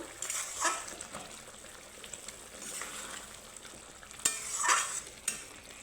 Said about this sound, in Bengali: স্পেশাল মশলাটা আমি ভেজে গুঁড়ো করে নিয়েছি তো হালকা একটু নাড়িয়ে ছেড়ে দিব